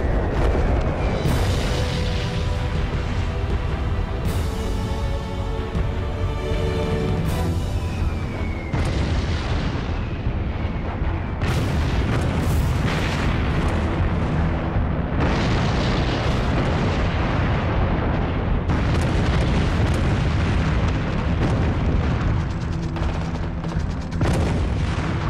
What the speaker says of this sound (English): 239 Allied bombers will drop more than 500 tons of bombs on the monastery.